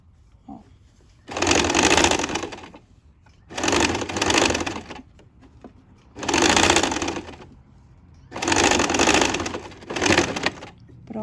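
A sewing machine stitches the last seam of a dress in a sewing class, running in four or five steady bursts of a second or two each, separated by short quiet pauses, close and fairly loud with no talking.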